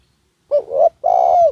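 A spotted dove, a newly trained decoy bird, gives two clear, close coos, a short note and then a longer drawn-out one, with a silent pause before them.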